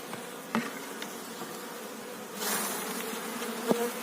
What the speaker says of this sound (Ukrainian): Бджоли трошки є.